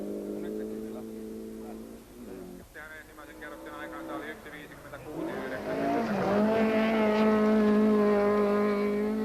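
Ford Escort rally car on a 1992 rallysprint stage in Seinäjoki, its engine revving and rising through the gears as it accelerates past, loud and close, with commentary running over it.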